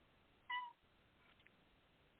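A cat gives a single short, faint meow in the background of a quiet room, followed by a couple of tiny distant sounds and near silence.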